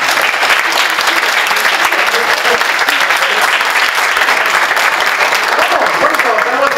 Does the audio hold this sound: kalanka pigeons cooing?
no